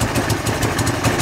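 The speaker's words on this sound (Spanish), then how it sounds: "Ahora voy a acelerarle." A motorcycle engine runs close by with a rough, pulsing idle that sounds like revving, steady and loud with no voices.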